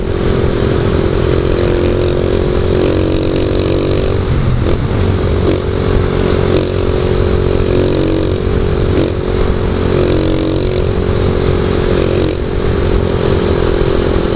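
A Skygo Boss 150cc cruiser motorcycle engine runs steadily and loudly throughout, a continuous deep rumble with slight fluctuations, heard close up.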